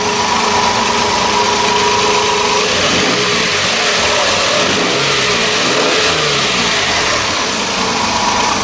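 A 1994 Toyota T100 DX pickup's engine runs steadily and loudly close by, a continuous mid-pitched hum with slight shifts in revs throughout and no voices.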